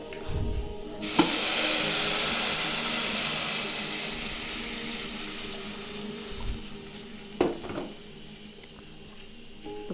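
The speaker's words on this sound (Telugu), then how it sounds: "వాటర్ పోసుకోవాలి." Water is poured into a hot pan of tempering with fried onion, green chilli, dried red chilli and curry leaves for neela chaaru, letting out a sudden loud hissing sizzle that slowly fades, with a few faint clinks and no talk.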